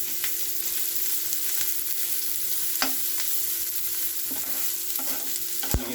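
Food fries in a pan until golden brown, producing a loud, continuous sizzle with occasional stirring clicks and scrapes and one sharp knock near the end. No one speaks.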